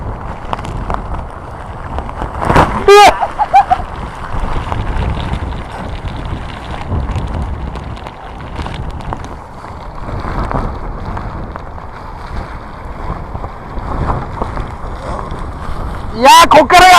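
Strong Typhoon No. 18 wind buffets the microphone in continuous heavy gusts, with a couple of sharp loud bursts of rushing noise near the start and end, and people talk over it.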